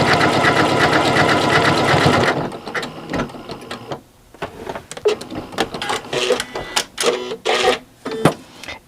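A domestic sewing machine stitches a knit buttonhole with a crossover stitch, running loud and steady for about two seconds before dropping to quieter, intermittent mechanical whirs and clicks.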